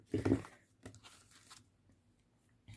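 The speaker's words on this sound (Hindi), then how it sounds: "so let's quickly shuffle the cards" Tarot cards shuffled by hand, a sharp burst of papery riffling near the start followed by a few softer, brief card flicks and a faint final riffle, close and otherwise quiet.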